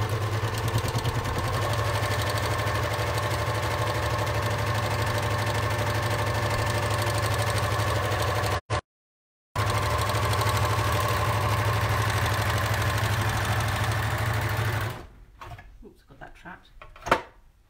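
An overlocker runs steadily while sewing a rolled hem, a loud continuous mechanical whirr with a brief stop midway, then it winds down and falls quiet with light handling noises.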